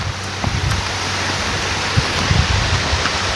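Heavy rain pouring outdoors near a house by a grove, a dense steady hiss with scattered close drops spattering on surfaces, no voices.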